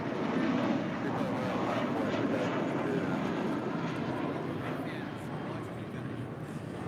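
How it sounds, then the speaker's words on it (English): Spirit Airlines Airbus A320 departing LAX on a flight to Baltimore, a steady broadband jet roar holding loud and close for the whole stretch, easing slightly toward the end, with no talk over it. "This is Spirit 2330 departing to Baltimore on an A320."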